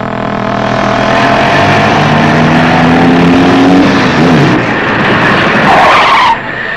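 A car brakes hard and its tires skid in a long, loud screech that bends in pitch over several seconds, with engine noise underneath, ending abruptly.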